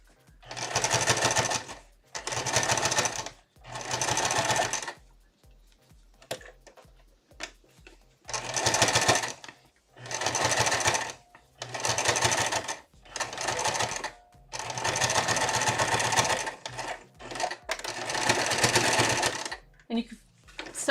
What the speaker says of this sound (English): And you could sew it another time in the middle to reinforce that strap, especially if it's going to be carrying heavy things.